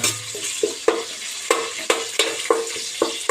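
Garlic and whole spices sizzle in hot oil in a pan while a utensil stirs them, giving regular scraping knocks about every half second over a continuous frying hiss.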